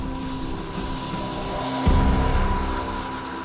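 A Lockheed Martin P-3 Orion turboprop patrol aircraft drones with a steady propeller engine hum and tonal whine, swelling into a louder roar partway through, with no voices.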